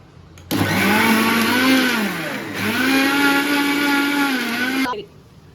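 An electric mixer blends a pudding mixture in a loud whirring burst of about four seconds. The motor pitch sags and recovers midway, then stops abruptly.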